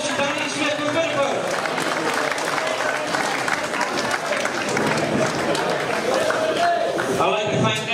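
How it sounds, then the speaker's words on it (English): A boxing-event crowd applauds after a bout, with a dense, continuous wash of clapping and cheering throughout, while an announcer speaks over it. "Big round of applause to Danny Smith from Liverpool."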